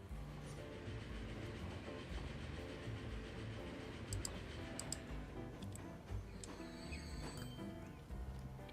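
A passenger train in the Transport Fever 2 video game rolls along in a steady rumble with rhythmic clickety-clack from the wheels and a few light ticks, with no voices.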